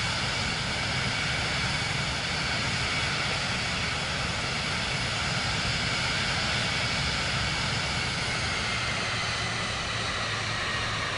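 Airplane engine drone in Microsoft Flight Simulator 2024 during a straight-in landing approach, a steady, loud, continuous broadband roar that holds evenly throughout with no talk over it.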